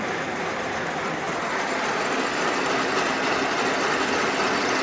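Izh Jupiter motorcycle engine fitted with Jawa pistons, running steadily with a continuous loud, rough mechanical drone and a slight rise in revs, close and unbroken by talk.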